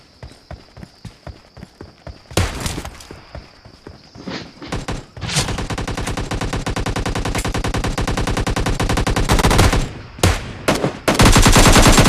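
Rapid bursts of automatic gunfire in the PUBG Lite shooter, loud and close, starting with scattered single shots and then building into long sustained volleys with brief gaps.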